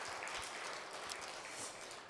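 Faint, distant applause from a church congregation during a Sunday afternoon service, a steady soft patter of clapping lasting about two seconds with no talk over it.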